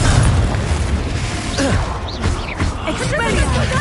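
A Confringo spell explodes in the video game Hogwarts Legacy with a heavy booming blast. Dense rumbling combat effects and bursts of other spell sounds surround it, and a voice can be heard.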